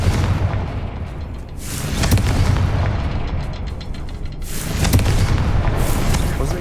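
Fiery Confringo spell blasts from Hogwarts Legacy gameplay: two heavy, booming explosions, one near two seconds and another near five, each swelling into a loud, rumbling roar over continuous low background noise.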